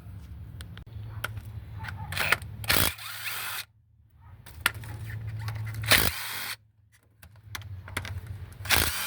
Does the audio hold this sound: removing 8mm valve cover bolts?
yes